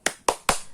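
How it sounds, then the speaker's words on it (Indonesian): Three sharp group claps in a steady rhythm, a spirit clap led to close a parent-school session on helping children succeed in school, each clap crisp and close with short decay. "kita tepuk semangat lagi, Bu"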